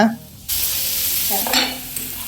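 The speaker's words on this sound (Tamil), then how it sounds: "கொஞ்சமாக வெங்காயம் போட்டு வதக்கிக்கலாம்" Onion and tomato sauté in a pan with a sudden loud sizzle as they hit the oil, then a continuous hiss broken by stirring scrapes, close by and with no talking.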